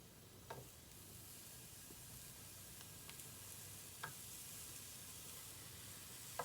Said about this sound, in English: Pan is hot now. Then you put mushroom in.